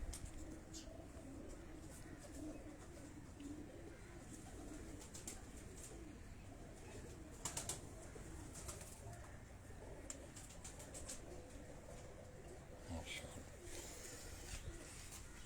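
Fancy breeder pigeons coo in a loft, a low, steady rumble of soft coos heard close by with faint rustles.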